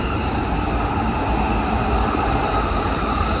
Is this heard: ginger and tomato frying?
no